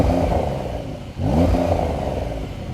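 Turbocharged flat-six in a new 2020 Porsche 911 revving loud and close, two rising throttle blips split by a brief dip, with no talking.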